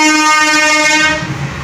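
A train sounds a loud, sustained horn blast at the Palacode railway crossing gate, then fades into a lower rumble of rolling rail noise with no talk.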